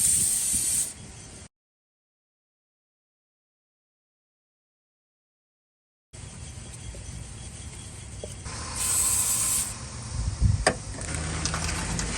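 Cleaner sprays around a Ford truck throttle body in short hissing bursts, separated by a silent gap, against outdoor background noise.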